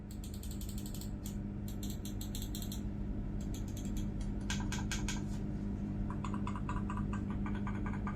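A Fantech Raigor III WG12 budget gaming mouse clicks in quick bursts of sharp, light taps, near and fairly faint over a steady background hum, with short pauses between the groups of clicks.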